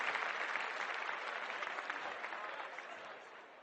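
A theatre audience claps in a steady, dense burst of applause heard alone at moderate distance, holding for several seconds before gradually thinning and fading at the end.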